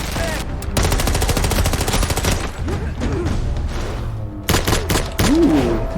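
Dense, rapid gunfire from a Westworld TV episode, loud bursts of automatic shots layered with music and effects, and a brief pause before more shots and a high swooping sound near the end.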